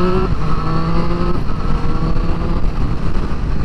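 Triumph Street Triple RS motorcycle engine running steadily at speed on twisty roads, a continuous loud intake roar and exhaust drone with wind rush and no speech.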